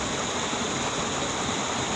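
Steady, dense roar of a waterfall where anglers are handline fishing for redfin, broadband rushing water filling the whole clip at a constant level with no voices.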